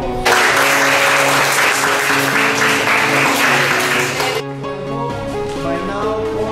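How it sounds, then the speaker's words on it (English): A classroom of students gives a big round of applause for group presentations, dense clapping for about four seconds that cuts off sharply, followed by a tonal, music-like hum. "give them a big round of applause"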